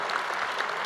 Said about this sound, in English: You deserved a round of applause.